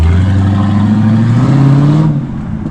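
A Mercedes SL500 V8 engine revs loudly up close, its pitch climbing steadily through a held rev before dropping sharply back toward idle.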